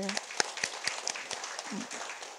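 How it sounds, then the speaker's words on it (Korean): A room of staff at a Korean district office leadership meeting gives a short scatter of claps, moderately quiet and partly masked by a voice talking over them. "이렇게 열심히 해준 우리 직원들께도 큰 응원의 박수 부탁드립니다"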